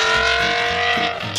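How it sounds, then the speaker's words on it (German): BMW M6 with a 5-litre naturally aspirated V10 producing 507 PS, a loud, harsh, high-pitched engine howl sustained across a brief burst, close up. "Der BMW M6, brachialer Sound aus einem 5 Liter V10 Saugmotor mit 507 PS."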